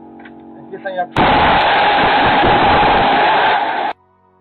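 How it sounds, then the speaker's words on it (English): An outdoor air conditioner unit mounted on an exterior wall explodes with a sudden violent blast, followed by a loud sustained roar lasting nearly three seconds before cutting off abruptly, preceded by brief faint sounds. "The outdoor unit of the air conditioner suddenly suffers a violent explosion."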